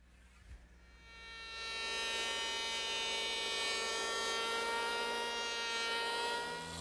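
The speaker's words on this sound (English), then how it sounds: "to smooth that out, I'm going to use my handheld power plane" A handheld electric power plane smooths the edge of a wooden armoire face frame, rising from a quiet start into a loud, steady, close-up motor whine with a harsh cutting hiss that holds for several seconds.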